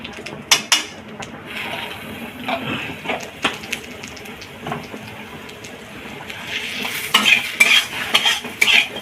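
Ghee heats in a pan for a Bengali pointed gourd (potol) dish while a utensil stirs, giving a soft sizzle under repeated sharp scraping clinks against the pan, quiet and close with no talk.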